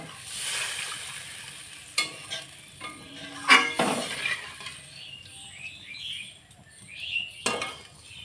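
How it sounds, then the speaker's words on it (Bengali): Bengali-style curry of mustard paste and spices bubbling in a pan of water before silver carp goes in, a steady quiet simmer with a few sharp clinks of a utensil against the pan. "ঝোলটা আমার ফুটছে"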